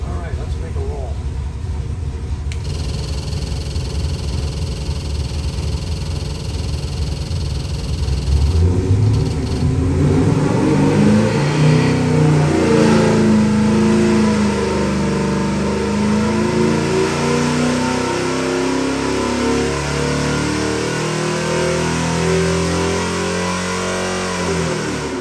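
A 1969 Plymouth Road Runner with a 440 Mopar stroker crate engine fires up, settling into a lumpy idle and then revving in repeated loud, close throttle blips, with a voice talking over parts of it.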